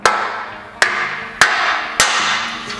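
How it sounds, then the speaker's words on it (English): A rubber mallet taps a post cap down onto a welded post, giving five sharp, evenly spaced knocks close by, each ringing briefly before the next strike. "you might need to just use a rubber mallet"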